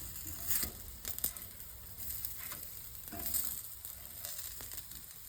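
Raw banana (balekayi) slices fry on a tava with a soft, steady sizzle broken by a few sharper crackles and light scraping, heard close with no talking.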